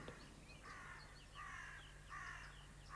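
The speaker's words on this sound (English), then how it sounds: "The crows are the worst offenders." Several crows caw repeatedly in short, harsh bursts at moderate distance, the calls coming in clustered groups over a steady low background hum, with no talking.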